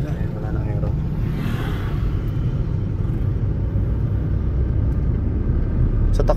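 A Hyundai Eon car drives along with a steady low engine and road rumble that fills the whole stretch at a constant level, with faint light knocks near the end.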